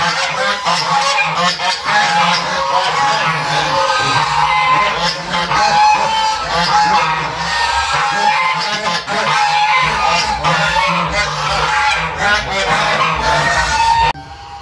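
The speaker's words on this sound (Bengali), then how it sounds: "এখানে দেখতে পাচ্ছি প্রচুর রাজহাঁস রয়েছে। রাজহাঁসগুলো ডাকছে," A large flock of geese honks loudly and almost nonstop at a rural spot near an ashram in West Bengal. Many overlapping calls come from close by, with a few fainter fowl sounds mixed in.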